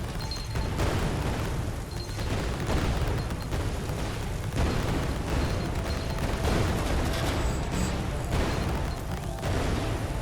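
Cannon fire and grenade explosions in the close-combat game Greedland, a dense, continuous roar of booms and bursts with no pauses, loud and chaotic, with no voices.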